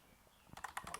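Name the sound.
computer keyboard typing a command in AutoCAD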